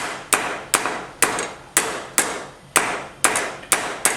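A 3-pound hammer strikes a metal holiday wireframe lying on the floor. Nine sharp, loud, evenly spaced blows ring out close by, each followed by a short metallic decay, with no voices.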